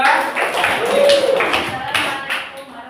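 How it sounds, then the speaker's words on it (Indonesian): A classroom group briefly applauds group 2, with a short burst of close, uneven clapping and some overlapping chatter. "Tepuk tangan sekali lagi untuk kelompok 2."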